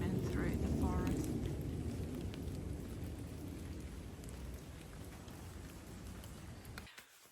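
Steady rain falling in a forest, a dense wash of patter with a faint bird call early on, continuing evenly until it cuts off at the end.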